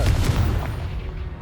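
The Confringo blasting spell cast in Hogwarts Legacy, a single close, booming explosive burst with a low thud that fades over about a second.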